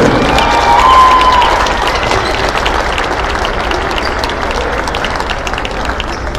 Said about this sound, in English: Fans, let's hear that one more round of applause for these five Yellow Jackets in here.